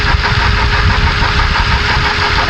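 A 2011 Kia Forte idles with a steady engine drone and a fast, repetitive knocking tick running through it, loud and close, with no talking.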